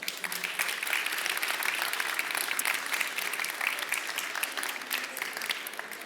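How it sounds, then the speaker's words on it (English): Sustained audience applause for pitch competition finalists at the TechBBQ Life Science event, a dense steady clatter of many hands filling the room for about six seconds, even in loudness with no talk over it. "Let's give them an extra round of applause."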